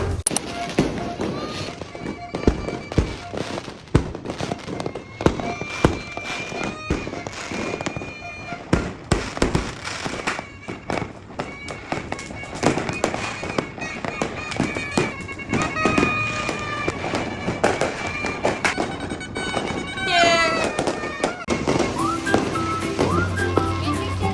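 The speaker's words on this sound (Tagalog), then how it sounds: "Fireworks light up the sky." Fireworks bursting in the night sky during a holiday in Manila, Philippines: a long run of sharp crackling pops and booms, some near and loud, along with whistling rockets and voices talking in the crowd.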